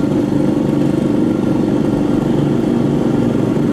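A motorcycle engine revs loud and close during a drive, a steady, continuous mid-pitched rumble that holds constant throughout, without any speech.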